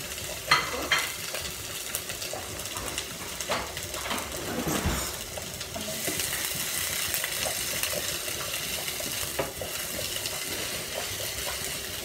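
Chopped onion with chilli frying in hot oil for a mince lasagna, a steady moderate sizzle with occasional stirring scrapes and soft knocks against the pan.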